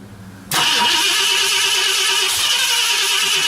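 A 1968 Ford Galaxie V8, cold after sitting, fires up with its hood off at night, catching abruptly after a brief quiet lead-in and settling into a loud, steady, rough idle close by.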